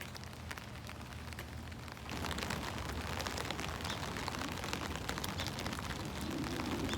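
Rain falls outside a window, a broad steady hiss of drops on surfaces that grows noticeably heavier and louder partway through, with no talking.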